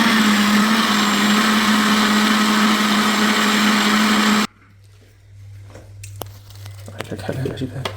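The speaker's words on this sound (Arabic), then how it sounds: "تبي نعاودو طحنو باش يطحن مزيان" Kitchen blender grinding a mixture again, a loud steady motor whine with churning for several seconds, then cutting off to a low hum and quiet rustling, with voices talking throughout.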